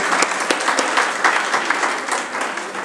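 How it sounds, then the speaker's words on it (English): Sustained audience applause at a formal Pakistani ceremony honouring a vice admiral, with dense clapping from a large crowd filling the room steadily for several seconds and no talk over it. "we wish to offer you a round of applause"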